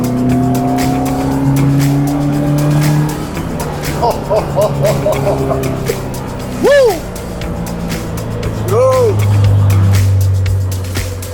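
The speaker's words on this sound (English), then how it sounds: "On your right side you have the exhaust and you hear it popping, banging" A Caterham Roadsport's exhaust pops and bangs as the engine drones at Circuit Zandvoort. Brief tire squeals ring out over the close, loud engine, and a voice whoops and cheers.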